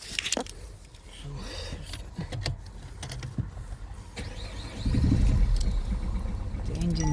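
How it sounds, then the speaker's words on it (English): A Peugeot 508's engine turns over and settles into a low idle, with a louder rumble building near the end, mixed with clicks and handling noises in the car and occasional speech. "we'll start the engine"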